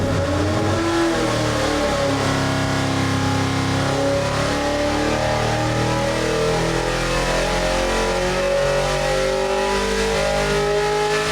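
A 632 big block Chevy V8 meant for a '77 tow truck sleeper revs hard and continuously under load, a loud sustained roar with shifting engine pitch and no talk over it.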